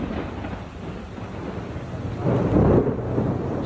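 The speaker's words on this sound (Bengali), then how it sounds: "এখন আকাশে ডাক দিচ্ছে" Thunder rumbles low and broad across a cloudy sky before rain, swelling louder near the end over a steady outdoor wash, with no talking.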